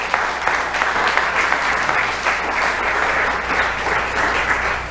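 A church congregation claps together in sustained, dense applause during a Spanish-language sermon, a loud, steady wash of hand claps close by that holds at an even level throughout with no break.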